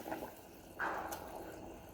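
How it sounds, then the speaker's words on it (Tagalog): Mushrooms drop into a pot of hot hotpot broth with a soft splash and wet bubbling, close and fairly quiet, with no talking. "Lagay natin ang mushroom."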